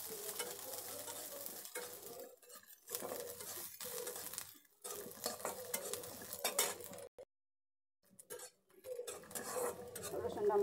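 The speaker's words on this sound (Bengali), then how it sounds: "তেলে দিয়ে দিচ্ছি। রসুনগুলো একটু ভেজে নেব।" Garlic fries in hot oil with a steady close sizzle, broken by repeated spatula stirs and scrapes against the pan and a brief silent gap near the end.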